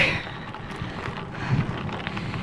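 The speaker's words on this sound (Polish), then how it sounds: "Dzisiaj mamy straszny wiatr." Strong wind roars and buffets the microphone in a steady, rough rush with no clear breaks, outdoors in Volterra, Tuscany.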